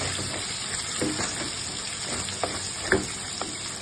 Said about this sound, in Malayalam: നമുക്കൊന്ന് ഇളക്കി യോജിപ്പിക്കാം.